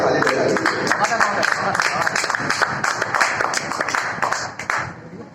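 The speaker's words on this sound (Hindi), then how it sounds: "आपके लिए जोरदार ताली बजाइए" Dense applause from a live audience at a Hindi comic poetry recital, welcoming the poet Suresh Banjare to the stage, a steady wash of many hands clapping close by that holds throughout and tapers slightly near the end.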